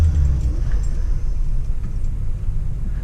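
A 1978 Lincoln Continental idles just after a cold start, a steady low engine rumble close by with slight fluctuations and no talking.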